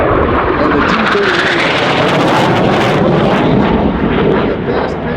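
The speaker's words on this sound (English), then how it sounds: "Lieutenant Colonel Ryan flying the aircraft in, that beautiful Dragonlady, aircraft 1071, bringing it in" A U-2 Dragon Lady spy plane roars past at the California Capital Airshow, its loud, steady jet engine rushing close and filling the air throughout with a broad, sustained drone.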